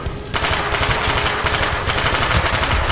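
Sustained automatic machine-gun fire in the Call of Duty: Black Ops video game, loud and rapid with a steady rhythm over three seconds, no talk.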